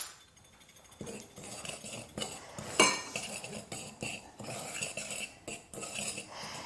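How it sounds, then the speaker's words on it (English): A utensil clinks and scrapes against a bowl while pancake batter with baking powder and baking soda is mixed, producing quiet, irregular close-up taps and chinks. "And then we're going to go ahead and mix this up."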